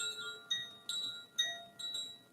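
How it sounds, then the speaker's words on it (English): Light tinkling chimes ring out in a series of bright, overlapping metallic strikes, each decaying gently into the next, soft and unhurried over a quiet background. "As you hear the sound, the tinkling of the chimes"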